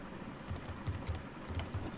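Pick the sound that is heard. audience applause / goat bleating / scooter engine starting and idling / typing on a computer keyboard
typing on a computer keyboard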